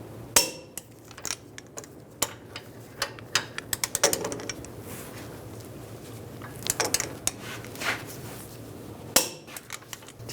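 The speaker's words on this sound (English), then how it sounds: "Torque these bolts to 130 foot-pounds." Torque wrench clicking and ratcheting on steering knuckle bolts of a 2011-2018 Ram 1500 front suspension, heard as a string of sharp, close metallic clicks and taps in irregular bursts, no talking.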